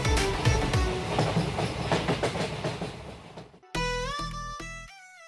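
A passenger train on a journey toward the Kanchenjunga hills rumbles along the rails with rhythmic clickety-clack beats, then cuts to a sustained tonal blare with pulsing low thumps near the end.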